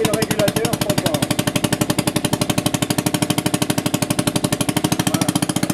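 A Conord F1 engine runs under brake load with a fast, steady, hard-edged mechanical pounding, loud and close, its rhythmic beat holding even as it labours against the brake.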